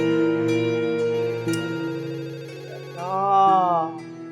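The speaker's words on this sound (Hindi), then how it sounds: "फोन टिडिंग टिडिंग कब से बजे जा रहा है" A phone ringtone plays a repeating electronic melody, loud and close, with no voices over it.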